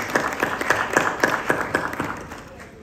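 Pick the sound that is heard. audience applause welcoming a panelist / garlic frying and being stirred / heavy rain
audience applause welcoming a panelist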